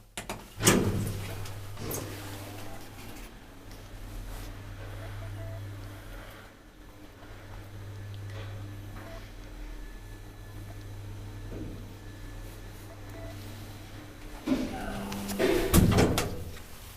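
Doors of an old Kone traction elevator in a residential building in Espoo, Finland, opening and closing with thuds and sliding rattles at the start and end, a steady low machine hum between.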